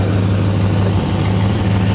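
A heavy Silverado truck engine idles steadily with a deep, rumbling low hum and a slightly rough, breathy hiss from an exhaust leak running through it, with no voices.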